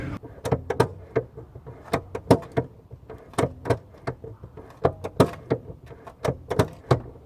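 A Jaguar XJ6 X300 with a seized handbrake has its lever worked repeatedly, giving a series of sharp mechanical clicks and ratchet clacks in irregular bursts close to the microphone.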